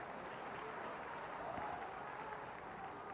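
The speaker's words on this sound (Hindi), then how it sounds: "एक बार तालियों की गड़गड़ाहट से इनका स्वागत करें" A crowd at a political rally in Morena breaks into sustained applause, a dense, even wash of clapping heard from a distance at low level.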